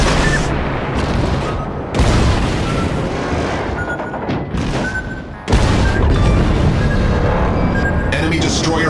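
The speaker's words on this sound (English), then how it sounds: "Enemy destroyer blown up." An enemy destroyer blows up in World of Warships, with heavy booming naval explosions in two big bursts over dense battle noise and a voice speaking at times.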